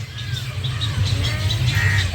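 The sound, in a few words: many birds at an island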